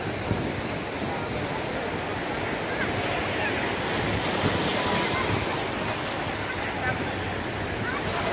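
Sea waves at high tide wash onto Digha beach in a steady, continuous roar of surf, loud and close, with wind rumbling across the microphone throughout.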